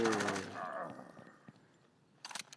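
Rapid automatic gunfire in the video game Blitz Brigade, a loud burst at the start fading off, then another short burst of shots near the end, with a voice briefly over the opening.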